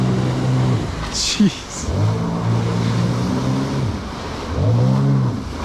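A Sea-Doo Spark Trixx personal watercraft engine bouncing off its rev limiter on the water, rising in two or three repeated surges with a brief spoken exclamation in between.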